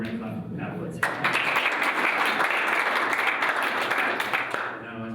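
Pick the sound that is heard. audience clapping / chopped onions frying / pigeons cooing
audience clapping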